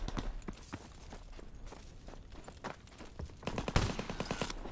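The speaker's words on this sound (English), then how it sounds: "Stop shooting at me" Gunfire in the Roblox video game comes as rapid bursts of sharp, clustered shots at moderate level, with a louder volley near the end.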